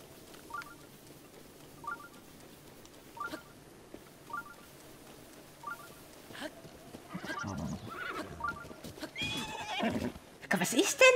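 A horse in The Legend of Zelda: Breath of the Wild gives a few whinnies and snorts amid hoof clops and faint game beeps, with someone talking quietly at times in the background.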